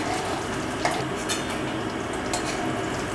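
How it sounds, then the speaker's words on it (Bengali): Fried tangra fish are lifted out of a pan of hot oil, with a steady crackling sizzle under occasional light clinks and scrapes of a utensil against the pan. "এবারে আমি মাছগুলোকে তুলে নিচ্ছি"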